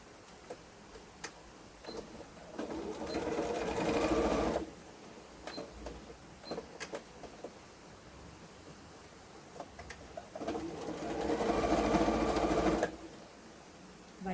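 A sewing machine stitches fabric for a doll in two sustained bursts, each lasting a couple of seconds, with light ticks and handling noises in between.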